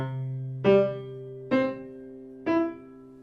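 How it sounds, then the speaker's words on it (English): Piano strings ring out sympathetically with overtone-series pitches: three clear struck notes about a second apart, each leaving a sustained resonant hum that lingers over a low held tone, quiet and close. "what you hear is the resonance from this one string that vibrates as it vibrates sympathetically with the other pitches that I play."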